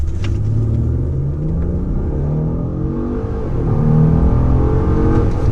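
A 3.5-liter twin-turbo V6 engine in a 2014 Ford Taurus SHO rumbles and revs steadily at low pitch, loud and close, with the tone rising and falling slightly as it accelerates.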